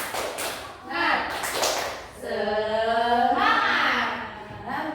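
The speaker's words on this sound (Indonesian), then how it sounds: "Coba tepuk semangat dulu ya" A class in a microteaching lesson performs the rhythmic tepuk semangat spirit clap, sharp hand claps and taps alternating with children's voices chanting in unison, fairly close.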